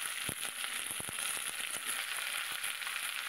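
Radish and bottle gourd sizzle steadily in a hot pan, a dense close crackle broken by a few sharp stirring knocks.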